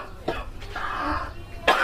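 Harsh, severe coughing from a person, close and loud, in several rough bursts with a short gap before a final strong cough.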